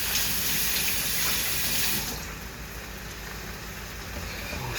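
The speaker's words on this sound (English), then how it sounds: "Let me rinse my hands real quick." Tap water runs steadily into a kitchen sink while hands are rinsed under it during fried rice cooking, a loud close hiss that drops and softens halfway through as the flow shifts.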